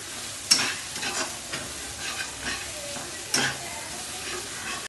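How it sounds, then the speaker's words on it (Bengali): Spices fry in a pan for tadka dal, with a soft hiss broken by a few sharp metal scrapes of stirring, moderately loud and close, no voices. "দেখেন মশলাটা আমি সুন্দর করে ফ্রাই করে নিয়েছি।"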